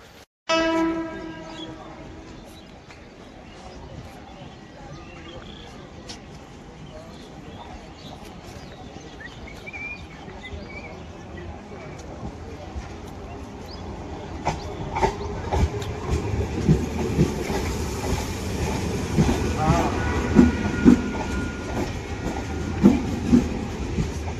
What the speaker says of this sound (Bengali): ফাইনালি কিন্তু আমাদের ট্রেন এসে গেল।